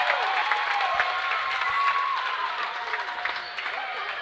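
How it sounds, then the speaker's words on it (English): Crowd at an 8th-grade basketball state game, cheering and clapping in a lively, steady roar with bursts of shouting and a voice over it, fairly close and loud. "We're going to get the mic really close to you because of the crowd noise."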